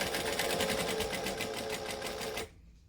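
Sewing machine stitching steadily at close range, running for over two seconds with a fast, even rhythm before stopping abruptly, then near silence.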